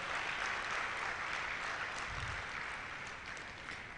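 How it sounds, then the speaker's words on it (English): An audience claps steadily through an inaugural lecture in a hall, full and dense from start to finish and fading only slightly toward the end. "A round of applause for her."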